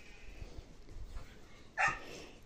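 A single short dog bark at a distance, faint, over low background rumble.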